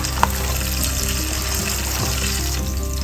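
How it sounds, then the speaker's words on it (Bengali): Mutton pieces for aloo gosht curry sizzle and hiss in a hot pan as they are sautéed, a dense, loud, continuous frying sound with an occasional faint clink. "এখন আমি দিয়ে দিচ্ছি মাংসগুলো।"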